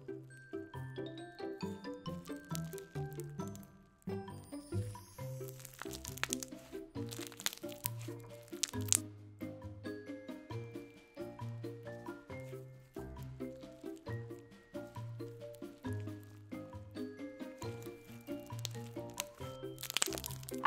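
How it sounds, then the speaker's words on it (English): Crunchy bingsu-base slime, dyed dark and light green, is squished and crunched with a long run of quiet, rhythmic crackles and squelches, close and alone. "we're going to go with a crunchy bingsu base and dye some of it both dark and light green inspired by nature"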